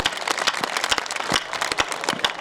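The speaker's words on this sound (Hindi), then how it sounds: "यहाँ तालियां बजती है" An audience claps at a Hindi poetry recital at a fair in Chhabra, loud close sharp claps in an uneven rapid patter throughout.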